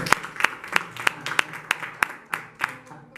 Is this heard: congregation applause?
yes